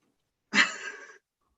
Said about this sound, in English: So I apologize for the dog here.